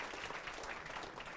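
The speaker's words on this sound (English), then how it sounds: "Can we give Steve a round of applause for that?" A live audience claps together in a brief, steady wash of applause that fills the whole moment without a break.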